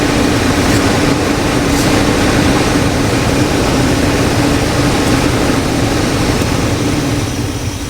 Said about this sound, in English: Really idling high though.